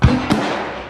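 A Smith & Wesson Airlite pistol fires one sharp, close shot at a steel target, and a second, softer crack follows a split second later.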